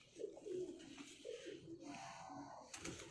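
Pigeons coo close by, several soft throaty rolling calls in a row, followed by a brief rustle near the end.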